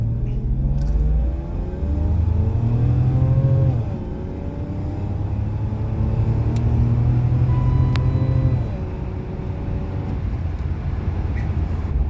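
A BMW 750iL E32 with a new fuel pump accelerates hard from a standstill to 60, its engine rumbling and rising in pitch through two gear changes, heard steadily and close with no speech.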